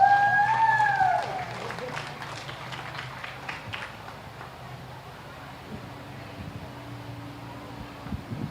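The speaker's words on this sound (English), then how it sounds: "Let's give her a nice round of applause" Scattered applause breaks out at a county fair junior dairy show for a grade Jersey junior champion, thin clapping from a modest outdoor crowd that starts after a brief tone and fades as wind and background noise remain.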